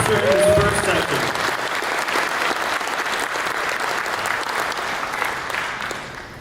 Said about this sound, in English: Let's give Sindicato Cigars a round of applause for sponsoring this first session.